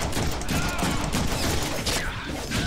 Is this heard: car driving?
no